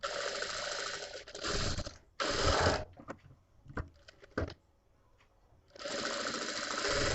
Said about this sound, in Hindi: ये देखिए, एक दाब की सिलाई लगाते हुए कटोरी जोड़ रहे हैं।